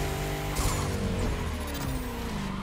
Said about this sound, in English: Oh, I braked too late.